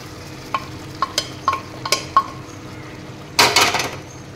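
A spoon scrapes and clinks against a pan while chicken curry with boiled jackfruit seeds is stirred, a series of sharp metallic taps followed by a louder burst of scraping and sizzling near the end.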